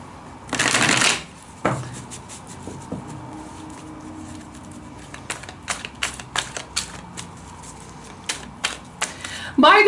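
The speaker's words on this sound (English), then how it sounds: "let's give it a good shuffle now." A deck of tarot cards is riffled in a quick burst, followed by scattered soft card flicks and taps, with a voice speaking now and then.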